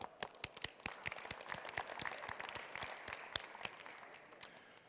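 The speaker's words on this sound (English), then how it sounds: "so save that applause" Steady applause from a crowd, many hands clapping in a dense, continuous patter with no voices over it.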